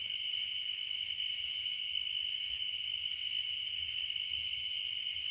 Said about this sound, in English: we have cicadas here, but not only the crickets, you can hear grasshoppers and tree frogs